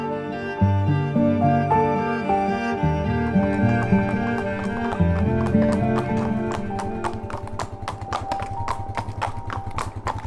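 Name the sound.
horses' hooves, retired racing thoroughbreds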